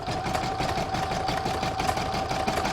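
Embroidery machine stitching a stippling fill on a tissue holder project, a steady rapid mechanical whir with a rhythmic needle patter and a constant hum, close and continuous throughout.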